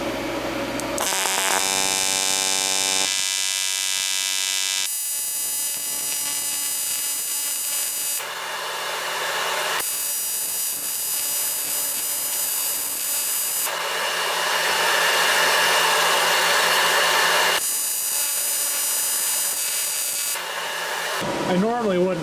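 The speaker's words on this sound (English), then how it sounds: "this might be a little sloppy because I'm welding directly behind the camera." An aluminum cylinder head is TIG welded in repeated bursts: a steady, tonal electric buzz of the arc starts and stops several times, with brief quieter pauses between welds, close to the microphone.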